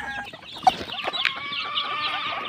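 Pet chicks at feeding time, with close clucking and soft cheeping calls scattered over a quiet background.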